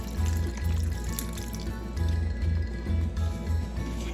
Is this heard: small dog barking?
no